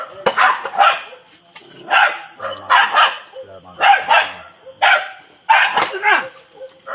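A dog barks repeatedly and loudly close by, sharp bursts coming in a rough rhythm about once a second amid a heated outdoor quarrel, with people's voices shouting in between.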